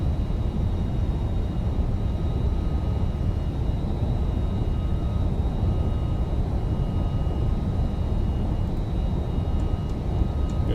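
Simulated MD-11 jet airliner departing in X-Plane 11, a steady, dense engine roar that fills the whole clip at constant loudness with no talk over it.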